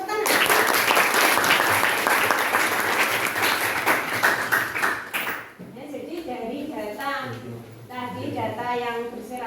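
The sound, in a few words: applause in a classroom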